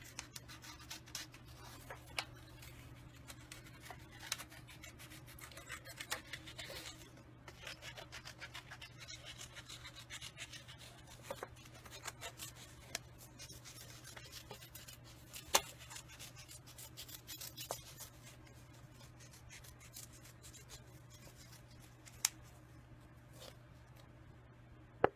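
Scissors snipping around the edges of a small printed paper sample label, giving soft, faint cutting and rubbing sounds with occasional sharp clicks, alone and close, with a steady low hum beneath.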